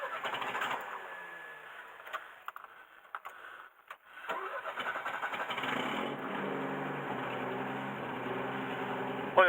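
A Mercedes W115 car engine cranks over briefly, then catches and settles into a steady idle, close by and moderately loud, with faint bird calls in the background.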